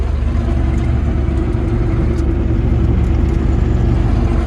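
A T-150K tractor engine running steadily while driving through a field for ploughing, a loud, constant low rumble heard close up with no breaks in the drone.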